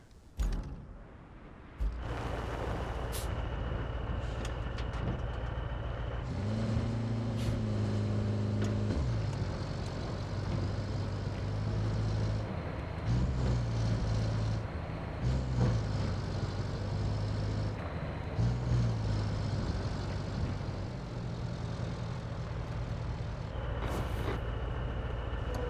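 A truck engine in the Roadcraft driving game drones steadily with low rumble and shifting tones, joined by occasional creaks and mechanical clunks, with no talking.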